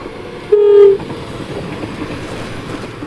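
A train on the Dovre railway in wintry Norwegian mountain country sounds a brief, loud horn blast near the start, then a steady rumble of rail cars continues at a distance.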